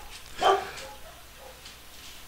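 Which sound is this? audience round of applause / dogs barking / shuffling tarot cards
dogs barking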